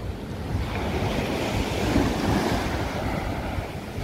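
Gently choppy sea washing onto a sandy beach by a resort pier, a steady broad rush of surf with wind across the microphone, moderately loud and continuous.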